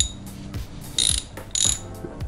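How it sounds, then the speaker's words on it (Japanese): A ratchet handle turns a T20 socket on a SRAM Force AXS crank while a power meter is fitted, giving a few short bursts of close metallic clicking with no talk. "ラチェットで回すことができるので、まあ、非常に使いやすいんですよね"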